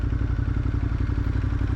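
A BMW R1200S motorcycle engine idling or running steadily nearby on a New York City street, a loud, even low throb with a regular pulsing beat that does not let up.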